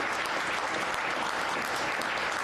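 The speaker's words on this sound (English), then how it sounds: "Another round of applause." Audience applause at a townhall on abolishing property taxes, held in a bar; steady, dense clapping from a crowd filling the whole stretch without a break.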